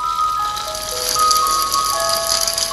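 Bright, tinkly electronic video game ending music from Midnight Pizzeria with sustained tones, playing steadily and loudly on its own without any voices.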